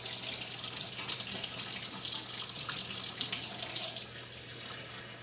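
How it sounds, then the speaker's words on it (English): Hot water runs steadily from a kitchen tap in a continuous hiss and splash, heard alone at moderate distance with no talking. "I want to put some hot water in there"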